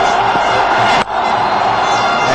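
Loud crowd roar in a cricket stadium during a Pakistan versus Sri Lanka T20 match, a dense continuous wash of cheering that briefly dips before surging back, with no clear voices above it.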